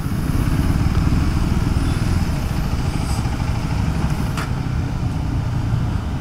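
A rare MV Agusta Brutale 1090 motorcycle pulls up, its engine a steady, loud, close rumble that stays even throughout with no talking.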